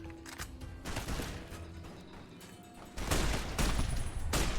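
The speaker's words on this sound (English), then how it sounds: "These are terrible shots, by the way. This gun sucks." Gunfire from a weapon in Fallout New Vegas, rapid bursts of shots that grow louder and denser partway through, loud and close, with no voices.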